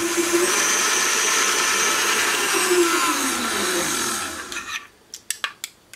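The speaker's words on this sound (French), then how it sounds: "on mélange les ingrédients pendant quelques secondes" A food processor whirs steadily for about four and a half seconds while mixing brioche ingredients for a lemon brioche, its motor pitch dipping briefly, then cuts off, followed by a few light clicks and knocks of the bowl or lid.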